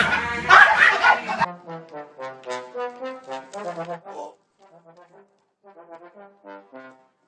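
A small dog barks and yips in a rapid run of high, sharp calls that soften into quieter whimpering yelps, close and clear with no talk over them.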